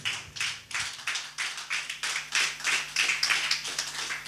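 A church congregation applauds in praise of the Lord, a steady rhythmic clapping of many hands at a moderate distance, with a low hum underneath.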